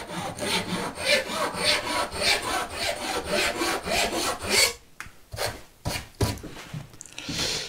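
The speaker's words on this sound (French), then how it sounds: "on peut avoir des scies qui soient vraiment très fines et faire des coupes très fines" A fine-toothed Japanese saw cuts through wood in steady rapid strokes, a close rasping rhythm for several seconds, then slower, broken strokes as the cut finishes.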